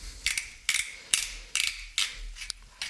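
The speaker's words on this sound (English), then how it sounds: "when you grind the pepper, it breaks open the peppercorns" A hand pepper grinder cracking peppercorns over scrambled eggs gives six short crunchy ratcheting twists in a regular rhythm, close and crisp, with brief pauses between turns, no talking.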